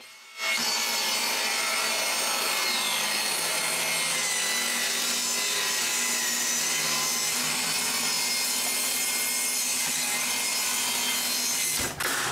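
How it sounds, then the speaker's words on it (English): Wood strips being ripped thinner on a saw for ceiling insulation at a cottage, a loud continuous saw cut running almost twelve seconds without pause, starting and stopping abruptly. "So we rip all the remaining strips thinner."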